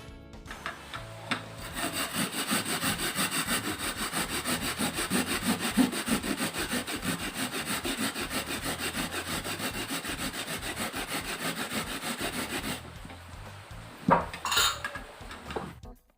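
Coconut flesh is finely grated by hand, a fast, even rasping scrape repeating for about twelve seconds, close and fairly loud, then a pause and a few louder knocks and clatters near the end; nobody speaks.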